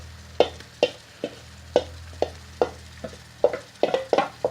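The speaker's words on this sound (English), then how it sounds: "So let's give that a good stir." A spoon stirs Goan vindaloo curry sauce in a pan, making a steady series of about a dozen close scraping, sloshing strokes at a regular rhythm with a faint sizzle beneath, and no talking.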